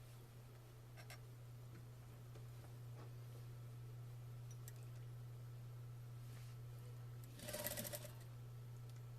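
Sewing machine stitching fabric folded over piping cord for a handmade pillow, a steady faint mechanical whir with a low motor hum throughout and a brief louder burst of stitching near the end, no talking.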